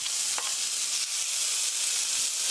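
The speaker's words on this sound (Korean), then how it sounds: "stir fry 5미닛, 5분 정도 볶아주세요" Sliced onion and garlic stir-fry in a pan for fettuccine with rosé sauce, giving a steady bright sizzle with a few soft scrapes of stirring, close and continuous, with no voices.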